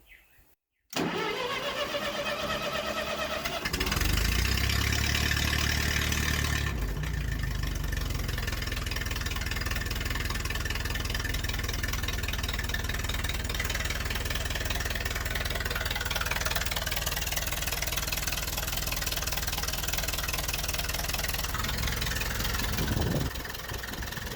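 An old tractor engine, choked and left in neutral, cranks and catches, then settles into a loud, steady, slightly knocking idle that runs close up and uninterrupted for over twenty seconds.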